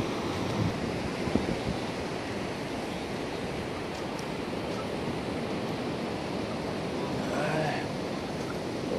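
Sea surf rolling onto Thuy Van beach in Vung Tau, a steady broad wash of waves with some wind noise, continuous and fairly close, with no one speaking.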